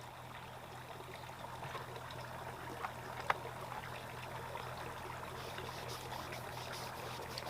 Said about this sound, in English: you just take a little small amount, pour it on there.